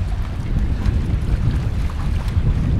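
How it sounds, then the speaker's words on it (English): Strong, steady wind from the tail end of a storm roars and buffets the microphone on the coast near Blakeney, with a low rumble throughout and no voices. "It's the tail end of a storm coming through here."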